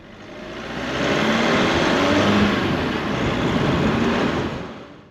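A diesel Audi TT TDI passes with a broad, steady rushing roar, swelling in and fading out over a few seconds with no talk.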